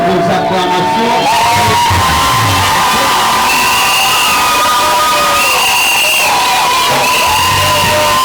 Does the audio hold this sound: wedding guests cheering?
yes